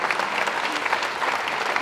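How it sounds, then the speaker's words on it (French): An audience at the Coupe de France des écoles baking competition applauds the young bakers. The dense clapping is steady and fairly loud and fills the whole moment without a break. "Vous pouvez applaudir la jeunesse"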